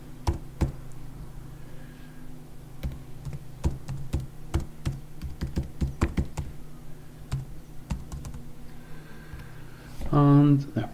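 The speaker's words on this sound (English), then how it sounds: "bear with me a second whilst I type those pupils' details in." Login details being typed on a computer keyboard at a desk, a steady run of close, irregular key taps spread across the whole stretch, with a brief voice near the end.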